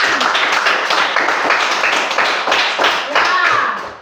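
Children in a classroom clap their hands together in a steady, dense burst lasting several seconds, close and fairly loud, with scattered voices mixed in.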